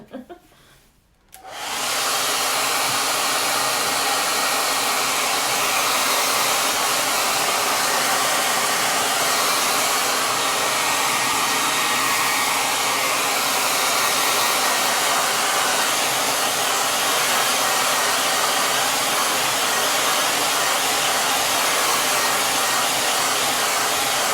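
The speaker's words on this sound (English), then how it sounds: "go ahead and use the blow dryer again," After a brief quiet moment, a hair dryer switches on to dry paint on a craft door hanger, running loudly and steadily, a constant close-up whooshing roar that continues without a break.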